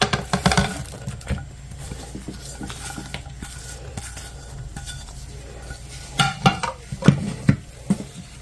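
Vegetable pancake batter with pumpkin and carrot being mixed in a bowl, irregular clinks and scrapes of a utensil against the bowl, busier bursts at the start and again near the end.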